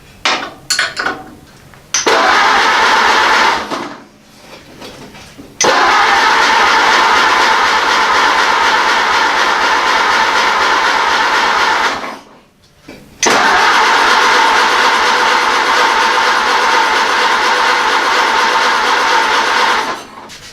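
A Ford AA Doodlebug engine, gravity-fed through a troublesome carburetor, runs loud and rough at close range, cutting out briefly twice before catching again and chugging on steadily.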